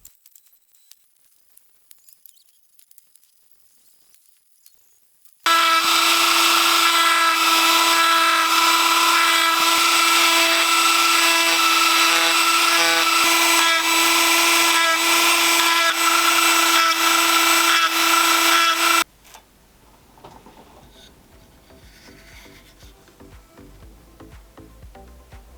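Carbide cutters on a rotary power tool carve a wooden speargun handle, a loud, steady high-pitched grinding whine running for about thirteen seconds after a quiet start, then stopping abruptly into faint rustling.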